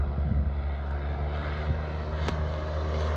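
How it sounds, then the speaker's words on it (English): A light propeller aircraft drones steadily at a campsite airstrip, a continuous low engine hum holding level throughout, fairly near, with no talk over it. "this campsite actually also has an airstrip"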